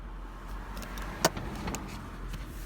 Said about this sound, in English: Listen to that door close.